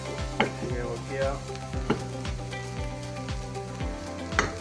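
Chopped green coriander stirred into a spiced potato paratha filling in a hot pan, with steady sizzling and repeated scraping strokes of a spoon against the pan at a loose rhythm.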